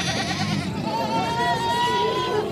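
Sheep bleat repeatedly at a livestock market in Dera Ghazi Khan, a wavering, fairly close call over steady crowd babble and people talking.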